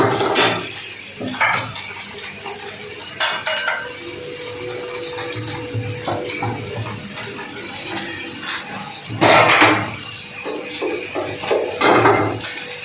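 Capsicum and coriander stir-fry in a pan, with scattered clinks and scrapes of a utensil against the pan and louder bursts of stirring at intervals, close up.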